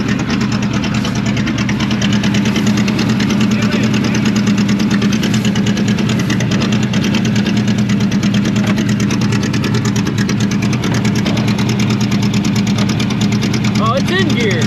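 An abandoned 1984 Chevrolet Monte Carlo race car's engine runs in gear with a loud, steady low rumble and a rapid rhythmic ticking knock, close by, while people talk over it.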